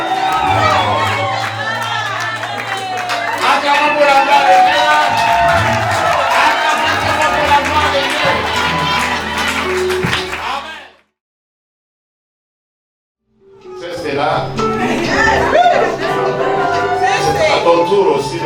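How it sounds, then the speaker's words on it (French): A wedding crowd cheers and shouts loudly in praise of God, a dense roar of voices and whoops that cuts off abruptly to silence before picking up again. "Acclamons pour la gloire de Dieu."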